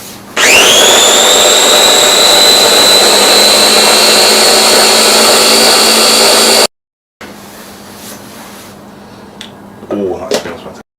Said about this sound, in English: plug in our little chopper engine.